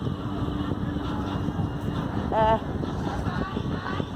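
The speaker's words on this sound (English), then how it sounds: "Engine's running." A harbor tour boat engine runs with a steady low rumble under wind noise at a waterfront. Faint rock music drifts in, and a brief tonal blare rises midway.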